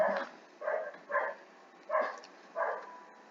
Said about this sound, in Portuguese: Meu cachorro late.